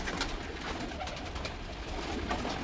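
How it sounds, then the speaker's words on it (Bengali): Pigeons coo softly while being fed grain, their faint murmuring blended with light rustling and background noise. "ছোট উস্তাদ এই যে দেখুন খাবার দিচ্ছে পায়রাকে"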